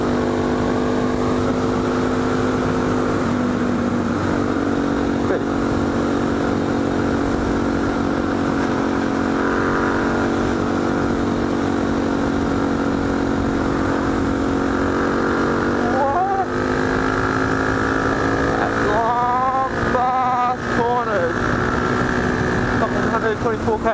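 A motorbike engine runs steadily along a road, a constant drone with harmonic hum that rises slightly in pitch toward the end, with voices and other engine whines briefly overlapping near the close.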